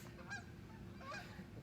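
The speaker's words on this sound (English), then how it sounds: "Oh, there's a fun sound of geese." Two honks from geese ring out over a steady low background rumble, moderately distant and fairly quiet.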